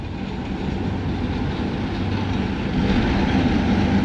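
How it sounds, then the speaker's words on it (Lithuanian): A train in Latvia rumbles loudly and continuously with a deep, steady roll and faint rhythmic clatter that grows slightly toward the end, with no voices over it. "Ten jo traukinys."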